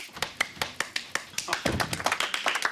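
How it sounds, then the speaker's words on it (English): Small group of book club members clapping together at home, a steady patter of claps that quickens and thickens toward the end, with voices talking over it. "Oh, no need to applaud."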